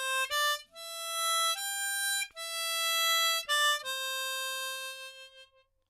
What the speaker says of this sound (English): I'm going to play it on a C harmonica today